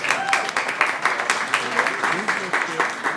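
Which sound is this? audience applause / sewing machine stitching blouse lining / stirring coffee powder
audience applause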